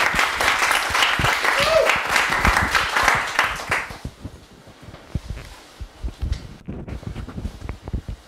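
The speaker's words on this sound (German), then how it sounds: "bitte ich euch alle für einen warmen Applaus für Maria" Audience applause at a German talk on antisemitism and racism: about four seconds of dense, warm clapping from a crowd, which then drops away to scattered claps and faint rustling and movement in the room.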